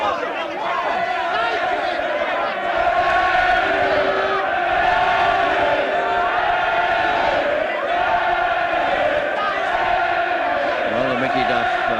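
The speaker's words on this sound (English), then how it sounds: "The crowd beginning to get behind Wharton." Boxing arena crowd at a professional fight in Leeds backing a local boxer, a dense roar of cheering and shouted encouragement that swells and holds, with a commentator talking over it.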